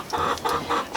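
A hen clucks inside a chicken coop converted from a shed, three short clucking bursts at close range, with no talk.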